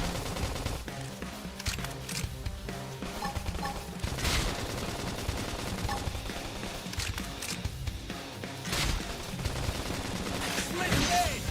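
Rapid bursts of gunfire crackle through a dense, busy battle mix with music and effects in the video game Xenoblade Chronicles X, several sharp volleys standing out over the steady din.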